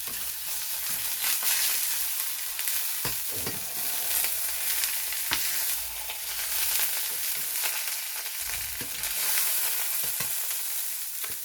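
Steak searing in oil in a hot pan, a steady broadband sizzle with occasional sharper spits and pops, close and continuous throughout with no voices.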